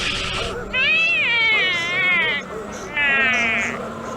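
A human voice imitating a cat's meow, giving two long, drawn-out, wavering meows in a loud, close, whiny tone in the manner of a sad stray cat on a Denver street.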